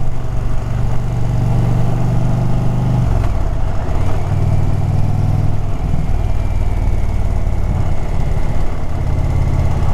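An Indian Pursuit / Challenger motorcycle rumbles on the move with a loud, continuous engine drone, dipping slightly in pitch partway through, under heavy wind buffeting and with no talking.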